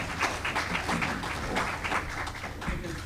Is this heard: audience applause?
yes